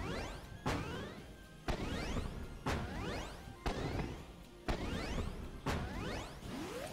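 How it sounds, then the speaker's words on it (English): Arcade-style jump and shoot effects from the Awesomenauts video game, repeating about once a second as sharp hits followed by swooshing, descending chirps, loud and close with no talk. "Arcade jump and shoot sounds."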